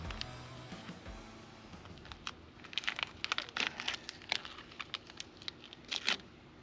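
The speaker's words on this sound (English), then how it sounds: "see how bad we can screw it up by taking this tape off" Thick tape is peeled off a 7.3 Powerstroke F250 in a series of close, crackling rips and crinkly bursts. The bursts grow more frequent and sharper toward the end, with no talking.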